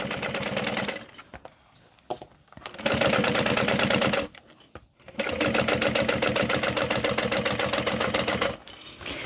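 A sewing machine stitches a bowler bag, with loud rapid needle runs in several bursts separated by short pauses and softer handling sounds, and no voices.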